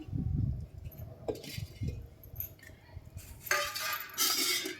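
A metal cooking pot is set down and handled on a kitchen stove before tempering for buttermilk sambar. Sharp clinks and clanks come in a few separate bursts over low background rumble.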